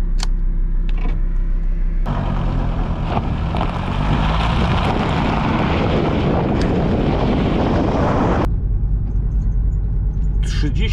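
A car travelling along a road, a loud, steady engine and road rumble with rushing wind noise that swells in and holds for several seconds, then drops away to quieter cabin sound.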